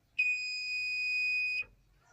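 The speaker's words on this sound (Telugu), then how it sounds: "స్టాండ్కు బజర్ ఫిట్ చేశాను." Buzzer fitted to the stand of a modified Honda Unicorn motorcycle, one steady high electronic tone held for about a second and a half before cutting off sharply, close and clear.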